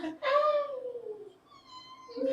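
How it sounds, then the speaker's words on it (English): A clear, high, drawn-out cat meow with a falling pitch, then a second shorter meow rising near the end, close and fairly loud. "It's like such a sweet meow though"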